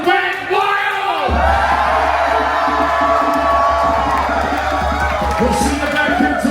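A large festival crowd cheers wildly in front of a stage, with roaring, whooping and yelling that swells to a sustained loud din after a brief lead-in, voices blending into a continuous roar.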